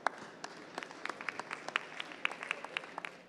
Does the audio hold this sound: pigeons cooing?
no